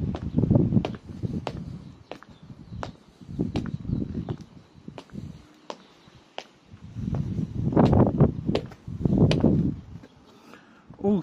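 Shoes with metal plates in the heels walking outdoors on a windy day, giving sharp, evenly spaced clicks over gusty wind rumble, with a brief pause midway before the steps resume.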